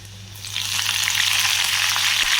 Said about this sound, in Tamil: அப்படியே நம்ம தாளிப்புக்கு எண்ணெய் விட்டாச்சு